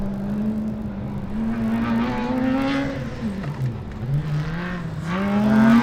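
A Formula Student race car, Zurich E33, roars steadily close by at a 2012 autocross event, its pitch climbing, dipping, then rising again as it revs hard.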